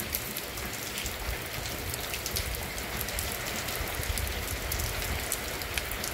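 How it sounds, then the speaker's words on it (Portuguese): Steady rain falls on Good Friday in Santana do Ipanema, a dense, even hiss of drops on surfaces that holds constant throughout with no voices. "essa chuva de hoje, sexta-feira santa"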